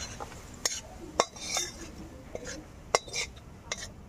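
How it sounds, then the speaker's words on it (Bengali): Fried food being poured with its oil from a pan onto a plate, a few sharp metallic clinks and scrapes of utensil against cookware at irregular intervals over a quiet background. "তো এই তেল সমেতে আমি ঢেলে নেব। এখানে একটা প্লেট নিয়েছি"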